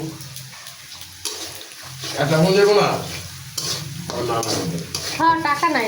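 Vegetables fry in a pan until browned, with a steady sizzle broken by scraping, clattering stirs, close up while a person talks over the cooking.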